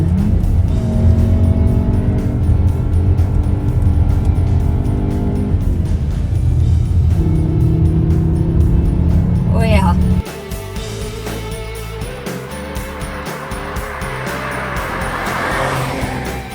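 Cupra Formentor engine in Cupra drive mode, a loud, steady engine drone with rising tones that drops abruptly to a lower rumble partway through, while a voice talks over it.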